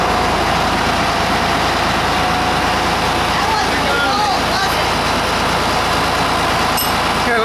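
The engine of a John Deere 7410 tractor runs at a steady, loud, rumbling idle close by, a constant heavy drone with a faint squeak or two over it.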